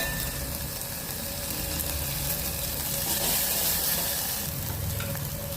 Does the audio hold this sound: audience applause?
no